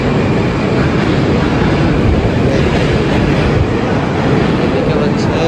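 A Moscow metro train at Paveletskaya station rumbles loudly and steadily nearby, a dense continuous roar of wheels on rails without pause.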